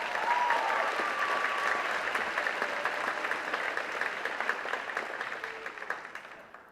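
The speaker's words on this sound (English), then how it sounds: "So a round of applause for your family and friends." Graduation audience at a college ceremony bursts into sustained applause, a thick crowd of clapping hands that starts loud and slowly thins toward the end, with no voices on top.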